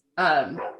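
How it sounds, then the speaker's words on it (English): A single dog's bark in the background of a conversation, one short loud yelp-like bark under a brief spoken word. "I'm so sorry for my dog in the background."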